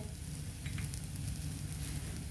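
Onion-garlic masala and salt are stirred in a hot pan, a soft continuous sizzle with low rumble and a few light scraping touches, close and quiet.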